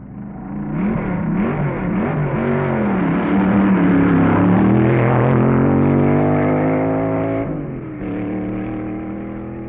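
Vintage drag racing cars at the 1961 U.S. Nationals, Indianapolis Raceway Park, roar loudly and steadily, engine pitch rising and wavering as they accelerate, then dropping off sharply near the end before a continued rumble.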